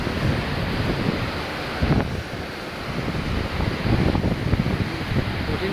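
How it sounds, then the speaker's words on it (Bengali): Heavy rain falls outside with gusting wind, a dense continuous wash of noise with rumbling wind buffets rising and falling throughout, no voices. "বাইরে যে পরিমাণ মাশাআল্লাহ বৃষ্টি হচ্ছে ভাই, একদম কঠিন"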